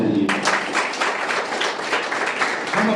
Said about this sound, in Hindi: मैं इस संजोग के लिए ताली बजाइए।